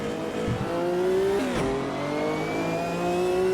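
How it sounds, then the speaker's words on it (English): Race car in Automobilista 2 spinning its wheels while exiting a corner: a loud engine note climbs, dips sharply at a shift, then rises steadily again as it accelerates away. "And wheel spin after I come off that corner."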